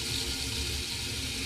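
Cold water runs steadily from a bathroom tap into a sink, a continuous even rushing hiss from start to finish with no voices over it.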